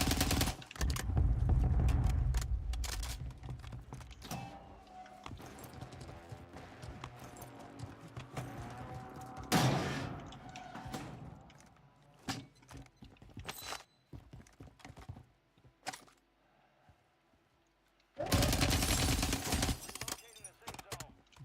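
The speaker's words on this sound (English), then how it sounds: "We probably should shoot at him." Video game gunfire aimed at an enemy on a roof, with bursts of sharp rapid shots and loud broadband blasts among quieter stretches, while someone talks throughout.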